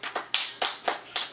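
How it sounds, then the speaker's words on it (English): A child claps hands five times in a steady, fairly quick rhythm, each clap a sharp, close, bright smack, with no talking over it. "Clap hands."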